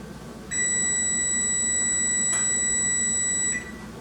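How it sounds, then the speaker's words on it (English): A kitchen oven timer sounds one continuous, loud electronic beep for about three seconds, then cuts off, with faint room noise before and after. "My timer is just about to go off."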